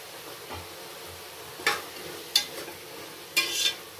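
Chopped fenugreek leaves fry in oil in a pan, a low steady sizzle broken by three or four short scraping stirs of a spatula, close by with no talking.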